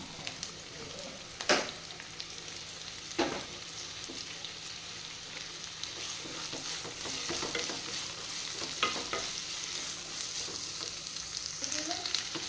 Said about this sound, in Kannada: ಇದನ್ನ ಫ್ರೈ ಮಾಡ್ತಾ ಇರಬೇಕು.